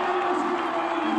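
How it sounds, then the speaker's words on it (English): A Test cricket crowd in Pakistan applauds a batter reaching fifty on the final day of the Pakistan vs Bangladesh match, producing a steady wash of clapping and cheering from a distance that holds evenly throughout. "The crowd applauds as well."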